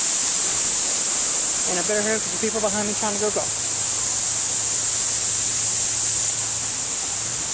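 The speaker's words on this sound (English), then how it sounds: "They got the waterfall. And the other waterfall." Steady broadband rush of a waterfall at a pirate-themed mini golf course, continuous and fairly loud throughout, with someone talking briefly over it partway through.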